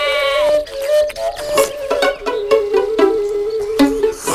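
A sheep in the corner of a pen bleats loudly and up close in long, wavering calls, with several quick clicking knocks between the cries.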